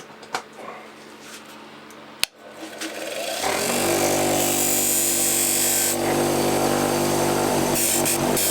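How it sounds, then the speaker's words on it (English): Cylinder part being deburred on a Scotch-Brite wheel: a quiet workshop opening with a sharp knock, then the wheel spins up at about three seconds into a steady, loud abrasive whir that holds to the end with a slight dip near six seconds. "just going to deburr it on the Scotch-Brite wheel"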